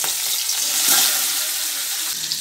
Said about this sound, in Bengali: এখন আমি রান্নাঘরে এসেছি মাছ ভাজার জন্য